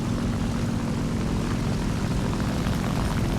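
Propeller-driven aircraft engines in the War Thunder combat game give a steady, dense droning roar, loud and unbroken from start to finish.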